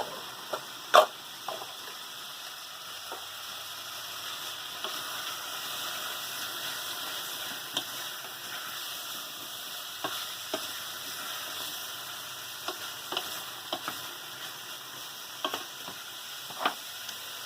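Red peppers, courgettes and celery frying in a pan for a sausage and vegetable curry, a steady quiet sizzle with scattered clicks and taps of a utensil, no voices.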